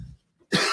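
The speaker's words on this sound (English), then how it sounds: "Pardon my cough." One short, sharp cough bursts out near the end after a soft murmur and a moment of silence, close and clear.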